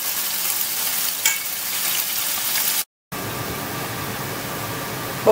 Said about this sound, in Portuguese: agora o meu bife está fritando ainda